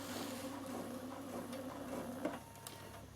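Bernina sewing machine stitching, a faint, steady mechanical whir with a soft rhythmic chatter, running evenly at low volume with a small knock near the end.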